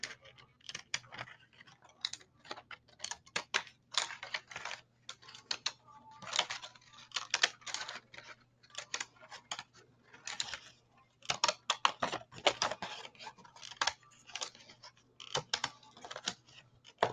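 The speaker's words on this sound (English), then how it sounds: "I'm going to follow the second straight edge with my decorative scissors." Rapid, irregular snipping clicks of scissors cutting through paper, close up, in short bursts with brief pauses, no talking.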